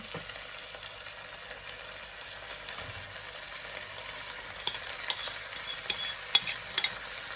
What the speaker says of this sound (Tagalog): Lagay na natin yung leftover na rice from yesterday.